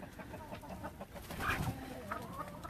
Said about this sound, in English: that is how we feed the chickens